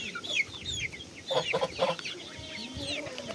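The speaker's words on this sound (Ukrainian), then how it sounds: "Ось такі вони, мої курчата, дивіться, як файно." A small flock of young chickens being fed zucchini clucks close by, short choppy calls overlapping in irregular bursts, loudest in a cluster midway, with no talking.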